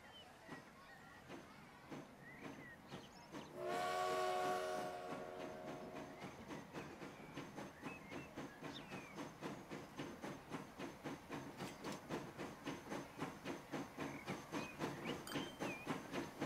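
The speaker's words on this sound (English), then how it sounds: "We'll only do one train right now." A single train in the game Transport Fever runs along the track with steady rhythmic clickety-clack that grows louder and quicker, a brief hissing whistle-like burst near the start over faint background hum.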